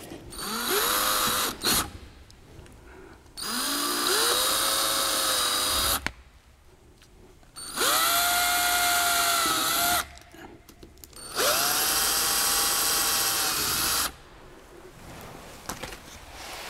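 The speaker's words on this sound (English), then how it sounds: "Okay, now it's time to drill the holes." A power drill bores holes into a Toyota RAV4 bumper in four loud whining bursts that rise in pitch as the motor spins up, separated by short quiet pauses.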